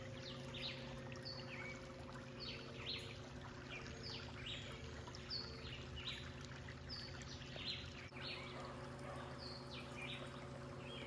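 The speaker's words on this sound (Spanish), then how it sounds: "El cantar de las aves," Faint birdsong with repeated short chirps and trills from several birds beside a stream, over a soft, steady trickle of water in a quiet outdoor setting, with no talking.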